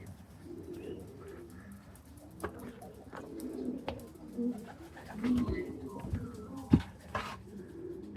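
Two racing pigeons cooing softly at close range in a loft after a 699 km race, with low repeated coos, a few sharper wing or foot sounds, and no talk.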